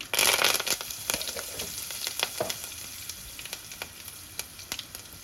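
Curry leaves sizzle and crackle in hot oil after asafoetida, sharp popping bursts that start loud and settle into scattered spits.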